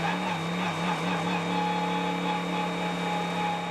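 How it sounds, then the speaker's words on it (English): Winward Racing GTD race car idling along pit lane on its speed limiter at the Sebring Twelve Hours, a steady buzzy engine drone with a droning low tone, constant and fairly loud throughout. "Sounds awful on the pit lane limiter"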